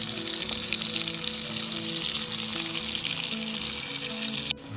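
Stuffed kantola (spiny gourd) frying in hot oil, a steady dense sizzle that holds close and loud throughout with no voices.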